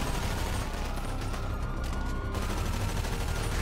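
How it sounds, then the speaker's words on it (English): Bursts of rapid gunfire aimed at police in GTA 5 rattle on continuously, dense and close, with no voices over them. "Shoot the cops."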